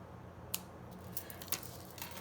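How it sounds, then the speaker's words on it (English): Small snips cut through ribbon in a few quick, faint snaps spaced about half a second apart, each a brief crisp click in a quiet room. "I don't have my ribbon scissors, so I'm using my snips"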